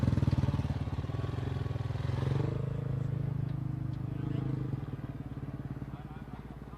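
An off-road racing motorcycle idles and revs at a tech inspection for the Baja 400 desert race, its engine pulsing steadily and close with a busy outdoor crowd murmuring and voices talking over it.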